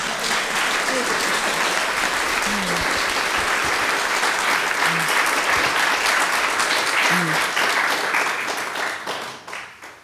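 Audience applause at a contemporary poetry reading welcoming poet Bernadette Mayer, a dense sustained clapping from a room full of people lasting about ten seconds before fading out.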